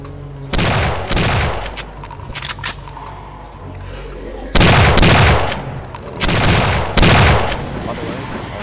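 Weapons fire in the video game Doom 2 in loud bursts, two clusters of rapid gunshots separated by a short lull of quieter game noise, close and harsh.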